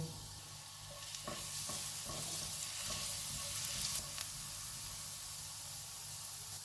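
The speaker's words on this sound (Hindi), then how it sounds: "इसमें चॉप किया हुआ 1 टीस्पून लहसुन डालेंगे और 1 मिनट तक फ्राई करेंगे।" Steady hiss of chopped garlic frying in hot oil with a few soft clinks and stirring scrapes, close and continuous, no talking.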